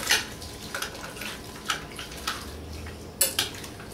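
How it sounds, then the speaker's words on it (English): Spoon stirring food in a crock pot, giving a few scattered clinks and scrapes against the pot with soft, wet shuffling between them, close and fairly quiet. "And then we're gonna stir this whole thing."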